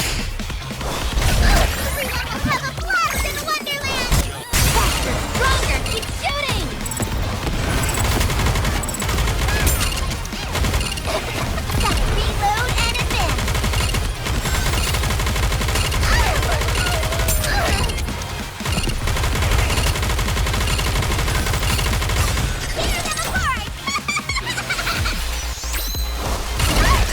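Dense, continuous gunfire and explosive crashes from the Goddess of Victory NIKKE shooter game, loud rapid bursts layered over a driving music track for the whole stretch.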